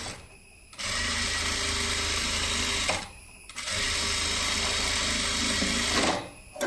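An electric sewing machine stitches a slit V-collar neck kurti in two long, loud bursts of steady motor whir and rapid needle chatter, separated by a short pause and ending in another brief stop.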